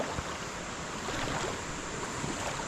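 The Tipacan River in Laguna flows in a steady, broadband rush of water, close and continuous, with no voices over it.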